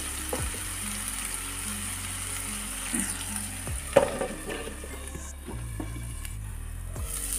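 Tomatoes with ground coriander and cumin sizzle steadily in a covered pan over low flame, a soft continuous fry close by with a few light clinks, and no one talking.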